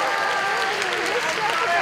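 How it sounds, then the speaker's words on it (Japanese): Dense studio audience applause greeting a challenger on a Japanese TV show, a loud continuous wash of clapping with cheering voices mixed in, lasting the whole short stretch. "皆様盛大な拍手で"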